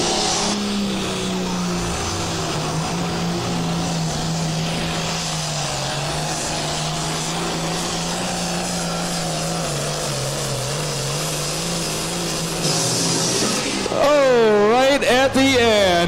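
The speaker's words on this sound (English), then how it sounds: "Right at the end as he started to pull back the throttle, pops the turbocharger" A Ford 8630 pulling tractor roaring down the track at a tractor pull in Baraboo, Wisconsin, a loud sustained engine drone with shifting pitch, then sharp popping from the turbocharger as the throttle is pulled back, under an announcer's voice.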